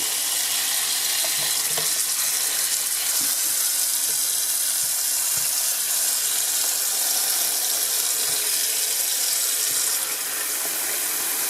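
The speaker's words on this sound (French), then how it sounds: "Je les mets dans un récipient. Et je les mets couvertes d'eau." Water runs steadily into a container holding black olives during home curing, a continuous close splashing wash that fills the whole stretch without speech.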